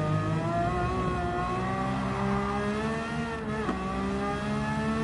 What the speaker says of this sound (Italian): Motorazzo Ferrari, sentite il rombo